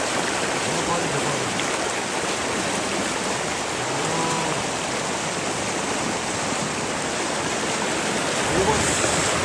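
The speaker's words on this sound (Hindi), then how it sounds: "देखो अभी रिवर इतना बड़ा हो गया भाई" Full river water rushes past steadily in a loud, broadband roar that stays constant throughout, close by and outdoors, with no clear talk above it.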